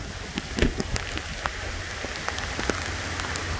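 Heavy rain from tropical storm Eta pours down steadily outdoors, a dense hiss of drops drumming on surfaces with scattered sharper splashes close by, and no voices.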